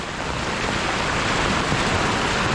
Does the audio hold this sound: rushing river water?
yes